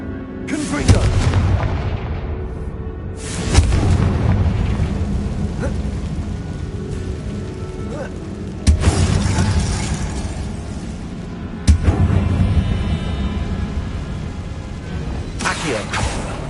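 Confringo blasting spell explosions in Hogwarts Legacy, several loud booming blasts with sharp onsets that each decay into a rumbling tail, while a player shouts spell names.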